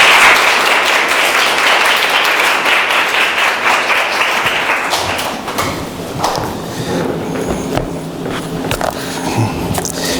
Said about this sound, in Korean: 다 같이 박수로 환영하면서